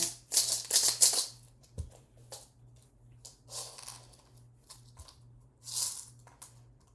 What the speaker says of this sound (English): I'm gonna do a little more shuffling.